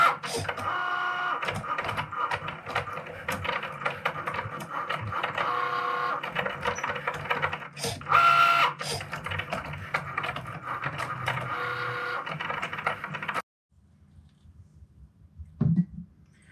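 Cricut Maker cutting machine working through a sheet of printed water slide decals, a steady mechanical whirring and buzzing with rhythmic carriage movements for about thirteen seconds before stopping abruptly into near silence.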